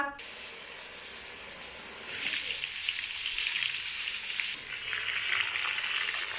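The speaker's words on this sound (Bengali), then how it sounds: "এখন চতুর্থ পর্যায়ে আমরা পটল ভাজছি" Pointed gourd frying in hot oil for a home Lakshmi Puja offering, a dense hissing sizzle that jumps louder partway through, dips briefly, then surges again up close.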